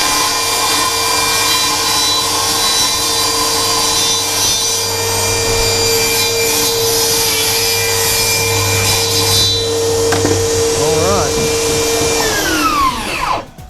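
A Dewalt 60V saw cuts steadily through a piece of wood, its motor whining continuously with a rasping blade sound, then spinning down as the cut finishes, no talking.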